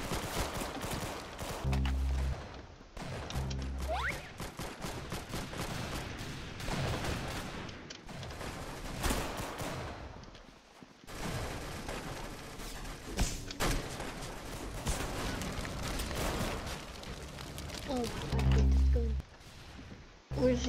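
Rapid bursts of gunfire from a weapon in the Roblox shooter Arsenal, several clusters of shots over continuous game noise, with people talking throughout.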